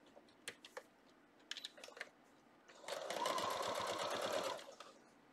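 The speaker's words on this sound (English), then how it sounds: "I'm going to nest those after I start sewing." A sewing machine stitches a quilt block seam made from fabric scraps. It runs in a rapid, even burst lasting about two seconds, after a few quiet clicks and fabric handling noises nearby.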